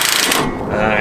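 Ratchet wrench tightening a loose part on a vehicle being fabricated, a loud close burst of rapid clicking and grinding over one second.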